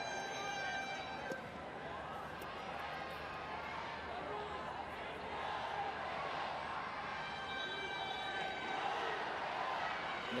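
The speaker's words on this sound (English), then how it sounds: "The crowd really revving up and getting behind Team India now." Stadium crowd at the India v Canada men's junior hockey World Cup in Lucknow cheering for India, a distant, steady roar of many voices rumbling evenly beneath a commentator's talk.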